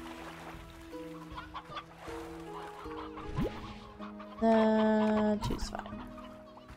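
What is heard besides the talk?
roosters clucking in the video game Slime Rancher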